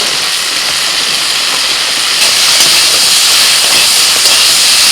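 Eggplant drops into a pan of frying pumpkin, pointed gourd and ridge gourd, and a loud, dense, hissing sizzle runs without a break and swells slightly midway.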